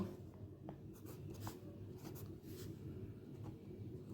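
Numbers being handwritten with a pen on paper, soft scratchy strokes coming in short bursts, faint and close over a low background hum.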